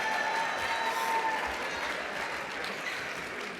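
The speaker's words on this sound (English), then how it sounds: "If everybody join me, give them a round of applause." Applause from an audience at an annual environmental leadership dinner, a full, even patter of many hands clapping, slowly fading slightly toward the end, with no one talking.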